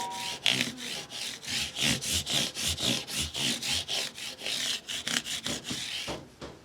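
Microfiber pad rubbed over a Hondo Deluxe Series 781 guitar, a quick run of rhythmic back-and-forth swishes close up, steady strokes ending abruptly, no voices.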